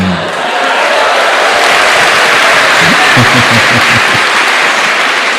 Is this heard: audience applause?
yes